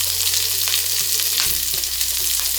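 Curry leaves and green chili sizzling in hot oil in a pan, a loud steady crackling fry with bright spitting bursts and a brief stirring clatter midway, no voices.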